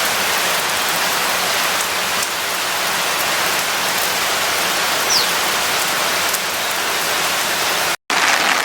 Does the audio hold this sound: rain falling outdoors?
yes